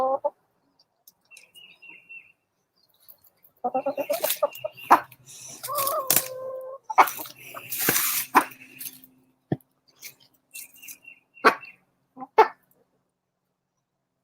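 A dog at close range gives scattered short, squeaky, yelping barks in irregular bursts separated by silent gaps, with some chirpy, bird-like tones mixed in.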